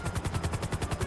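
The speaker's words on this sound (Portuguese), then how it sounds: "Não sei, eu escutei tiro." Rapid automatic gunfire in GTA 5, a steady run of about ten evenly spaced shots across a second, moderately loud and heard alone without talk.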